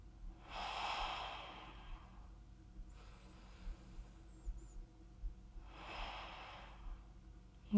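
Two slow, deep breaths during a twisting floor exercise on a mat, each a soft, close airy exhale about five seconds apart, with quiet room tone between them and no talking.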